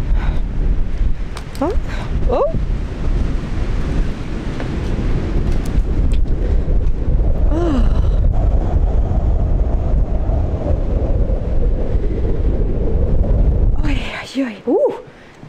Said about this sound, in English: Oh, it's very windy, by the way.